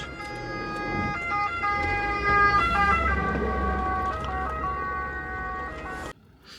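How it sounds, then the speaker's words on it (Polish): A fire brigade emergency siren passes on a road in Sardinia, its loud wailing tones rising and falling steadily for several seconds before cutting off abruptly near the end. "Jakaś karetka jedzie, albo policja, nie wiem, zaraz zobaczymy. Straż, aha."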